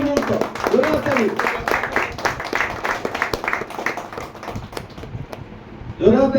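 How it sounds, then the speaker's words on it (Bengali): An audience at a mobile-repairing course closing ceremony claps in a steady, rhythmic patter that runs for several seconds under a voice before it thins out. "জোরে হাততালি একটা।"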